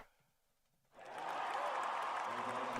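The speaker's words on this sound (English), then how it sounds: "So yeah, a little audience cheer." A short audience cheer sound effect with applause and crowd noise swells in after a near-silent second and holds at an even level to the end.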